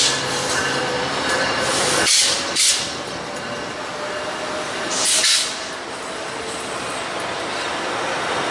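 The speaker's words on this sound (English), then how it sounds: "We got a train mate." A train passes close by with a loud, steady rumble and rattle of railcars. Two bursts of hissing spray cut through it partway along, and there are no voices.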